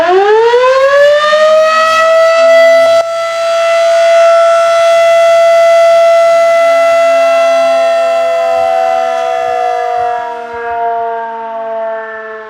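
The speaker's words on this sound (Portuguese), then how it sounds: "toda a região escutou essa sirene agora" A civil defense siren in the Ceará-Mirim region winds up and holds a loud, sustained wailing tone, briefly dipping before sounding on and slowly fading toward the end, with no voices.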